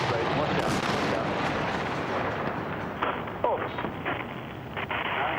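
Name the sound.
large bombs exploding in Baghdad, shock and awe bombing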